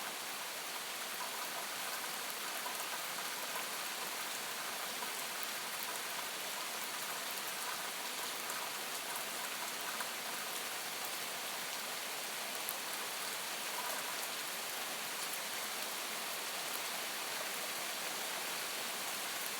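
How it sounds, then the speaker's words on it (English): Steady rain falling, a dense even hiss of drops that runs unbroken and fairly soft, with no voices over it. "I love the sound of rain."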